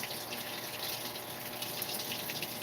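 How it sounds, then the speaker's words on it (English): Water gushing into a washing machine drum during a laundry soak, a steady close rushing flow without a break. "And I should be letting cold water go in here."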